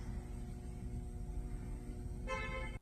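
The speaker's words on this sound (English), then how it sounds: "we heard a honk of approval" A car horn gives one short honk near the end, sounding over a low steady hum of traffic.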